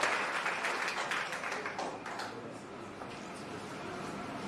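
A crowd at a political party rally in Agboville, Côte d'Ivoire applauds a speaker. The dense clapping starts loud and tapers slightly but holds steady throughout.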